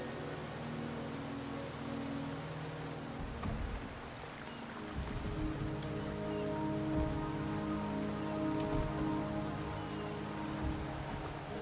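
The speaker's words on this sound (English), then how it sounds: "The rain is subsiding, and the sky will soon clear." Steady rain patters across surfaces in the Wuthering Waves game world, a soft continuous downpour with scattered droplet ticks and no voices.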